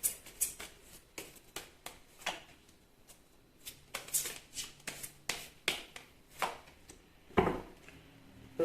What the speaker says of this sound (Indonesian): untuk penutupnya saya akan bukakan beberapa kartu. Oke, 2 kartu dari Whisper of Love.